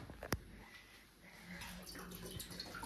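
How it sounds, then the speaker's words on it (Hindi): Water poured into a pot on the stove for homemade milk tea, a short splash then a steady close trickle and gurgle lasting a few seconds, with no talking. "गाइस ये डल गया है पानी हमारा"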